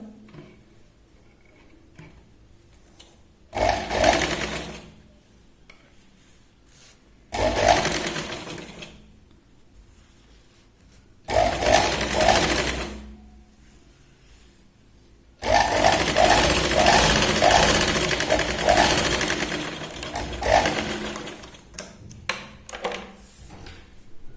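Four separate bursts of sewing machine stitching run along a folded Katori blouse strip, each a rattling run of needle strokes with quiet pauses between, the last burst the longest, with no talk.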